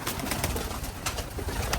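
Racing pigeons cooing inside a loft, a steady low murmur of overlapping coos with a continuous hum beneath and no talk.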